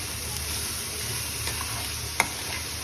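Grated coconut and sugar are stirred together in a pan, producing a steady close scraping sizzle with soft rhythmic stirring and one sharp clink of the utensil, without voices.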